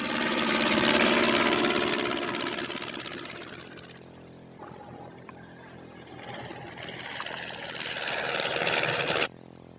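Propeller engine of an early heavier-than-air airplane, loud and droning as it takes off, swelling at first, easing back mid-clip, then building again before cutting off abruptly near the end.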